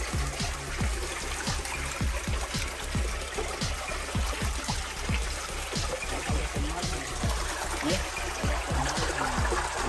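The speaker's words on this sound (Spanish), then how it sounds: "todo el agua que va sobrando de las piscinas va fluyendo y va saliendo por aquí directamente al río." Warm sulphur spring water flows from bathing pools straight into a river at San Diego de los Baños, Cuba, a steady close trickle and gush of running water heard under talking.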